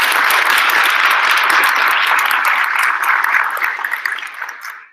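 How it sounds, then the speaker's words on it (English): An audience at a closing plenary of a winter science meeting applauds in a sustained, dense wash of clapping that holds steady for several seconds, then thins and fades out near the end. "Let's give them a big round of applause."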